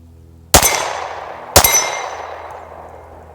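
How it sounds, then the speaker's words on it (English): Two pistol shots from a 10mm Springfield XDm on an outdoor range, each a loud sharp crack with a ringing clang off a steel plate rack, about a second apart, the metallic ring decaying slowly after each. "I'll attempt to run the plate rack. And this is the XDM. We're gonna shoot this first and see how it goes."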